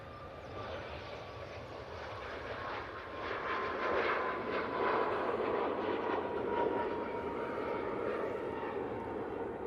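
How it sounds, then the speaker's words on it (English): A Ryanair jet airliner departing Manchester Airport for Barcelona rolls for takeoff, its engine roar starting moderate and building louder and fuller after a few seconds, then holding steady. "That Ryanair to Barcelona is now on the roll."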